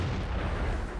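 A single M48 Patton tank cannon shot in World of Tanks, a heavy booming blast that fills the brief moment, loud and close with a rumbling low-end body.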